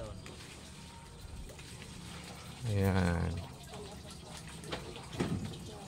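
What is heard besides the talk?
pressurized water flowing from a pressure tank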